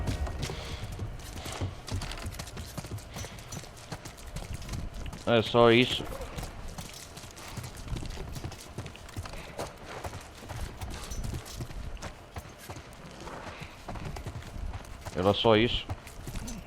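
Horse hooves clip-clopping in The Last of Us, steady trotting under someone talking in Portuguese, with two short whinnies sweeping up and down.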